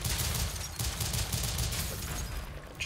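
Rapid, continuous bursts of gunfire from the run-and-gun video game Rise & Shine crackle steadily throughout, fairly quiet and without speech.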